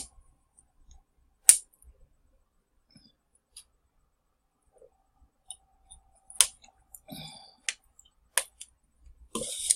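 A computer mouse clicks sparsely in a quiet room, a few sharp isolated clicks at first, then a denser cluster of quick taps and clicks toward the end.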